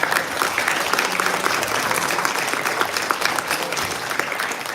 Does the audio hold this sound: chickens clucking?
no